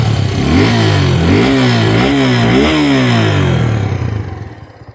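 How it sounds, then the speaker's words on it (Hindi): A 2022 Suzuki Gixxer 250 motorcycle idles close by with a bassy exhaust note, rising through several quick revs before settling and fading at the end. "मैं आप लोग को इंजन ऑन करके इसकी जो एग्जॉस्ट नोट है वो भी बता देता हूँ।"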